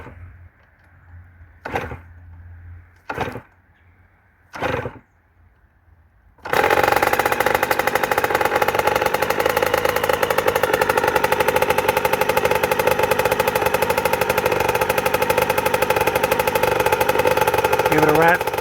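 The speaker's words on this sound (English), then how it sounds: "Here is a look at the completed engine. It's ready to go back on the frame, and I'll show you guys the first startup here in a second." A rebuilt Yamaha YZ80 two-stroke dirt bike engine, 1993–2001 model, after a full top and bottom end rebuild: three short kick attempts, then it fires up and runs loud and steady with a raspy idle until the end.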